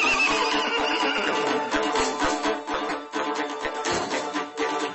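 A Yakut horse neighs loudly and close by, one long whinny that rises and then breaks into shaky, fluttering pulses before trailing off.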